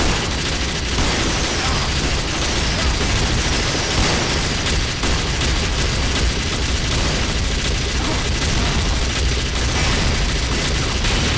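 Rocket explosions from giant soldiers in a Team Fortress 2 battle staged in Garry's Mod, engineers defending with sentries; a dense, continuous barrage of loud blasts and roaring noise that runs throughout without letup.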